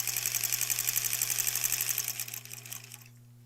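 Sewing machine stitching together quilt border pieces for a granny squares quilt, a steady close mechanical whir with a constant hum that runs continuously, then slows and winds down near the end.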